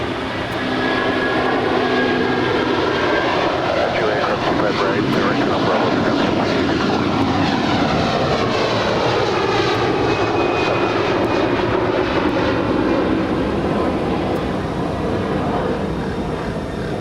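An Air Canada Airbus A330-300 jet at Los Angeles airport roars steadily, a loud, continuous engine rush with shifting tones as it passes, with a voice commentating over it.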